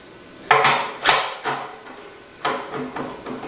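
A slicing disc is fitted into a VC65MS vegetable cutting machine, producing several sharp, close hard clacks and knocks at irregular intervals with quiet gaps between, and no talk.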